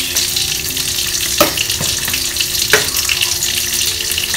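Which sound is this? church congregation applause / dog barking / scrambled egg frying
scrambled egg frying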